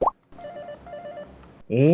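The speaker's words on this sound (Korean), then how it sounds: "픽 누르니까 옛날 전화 소리가 들리는데요?" Pressing a button on a Steam controller triggers an old-style telephone tone: a short burst of beeping tones, a steady two-part tone pattern, then a louder ringing, bell-like tone at the end, with no talk.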